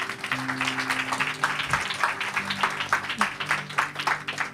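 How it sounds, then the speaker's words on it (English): Church congregation clapping at a sermon, a steady patter of many hands at moderate volume with a few people talking faintly underneath. "If you want, you clap, please."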